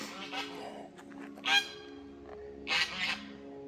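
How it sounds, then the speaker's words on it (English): Geese honk a few times nearby, two loud harsh calls standing out over quieter cackling in the background. "The geese are telling me not to cross the road."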